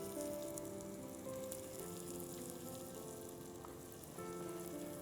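Onions sizzle steadily in a hot pan while a chicken curry is cooked, a continuous crackling hiss with light pops. Fairly quiet and close, with no talk.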